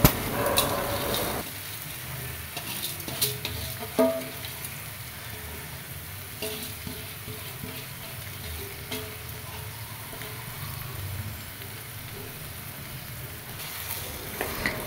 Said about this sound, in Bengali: আগে থেকে ধুয়ে রাখা চাল এবং ডাল এর মধ্যে ঢেলে দিয়ে ভালোভাবে নেড়েচেড়ে নিলাম।